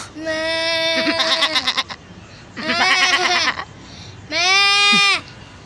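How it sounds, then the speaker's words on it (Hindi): Three loud goat bleats, each wavering and drawn out for about a second, separated by short pauses with faint background noise. "आप देख सकते हैं ये हमारे पास बकरी आई हुई है"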